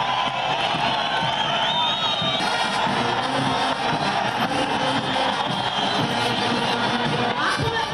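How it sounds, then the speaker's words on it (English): Stadium crowd at Ambo University cheering and applauding to welcome a visiting prime minister and his delegation, a loud, dense wall of clapping, shouts and whoops that holds steady from start to finish. "The people welcomed Dr. Abiy Ahmed and his delegation with ear-deafening applause."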